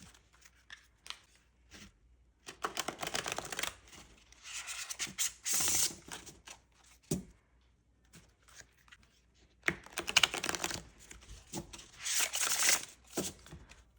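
A deck of playing cards riffles and rubs in several bursts as it is shuffled, the crisp shuffling coming in waves separated by quieter pauses, close by.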